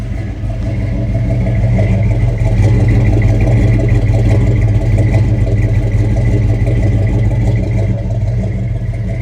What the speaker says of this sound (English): I'm dying for you to hear the sound rumbling out of those tailpipes